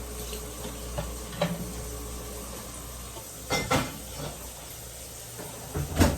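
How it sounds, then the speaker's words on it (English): Washing a big pile of breakfast dishes at a home kitchen sink, with a low steady rush of tap water under scattered clinks and clatters of dishes and a couple of louder knocks, fairly close and without talk. "I have 400 dishes to do"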